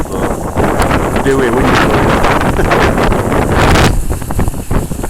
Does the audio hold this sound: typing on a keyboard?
no